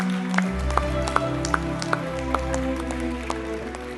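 A theatre audience applauds after an outdoor tale at an ecomuseum, with steady clapping and a few sharper individual claps standing out, and no talk over it.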